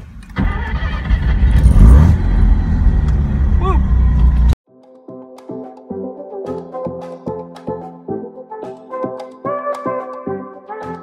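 A Mazda RX-7 on a long road trip: a steady loud engine and road roar, then a sudden cut to a quieter stretch of rhythmic clicks and knocks with tonal chimes, with brief voices.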